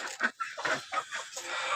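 A hen clucking in short repeated bursts close by, a quick series of sharp calls with brief gaps between them.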